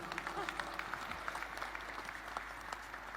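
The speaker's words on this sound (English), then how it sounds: "Let's clap for Jesus Christ." A church congregation claps during a sermon, producing a steady wash of applause with distinct individual claps, moderately distant and fairly quiet, continuing throughout.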